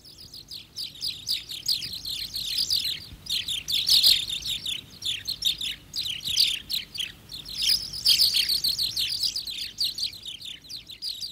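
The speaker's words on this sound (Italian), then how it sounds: "Cinguettio di passeri." Sparrows chirp in a dense, busy chorus of rapid high tweets. The calls go on steadily and fairly close, with no voices.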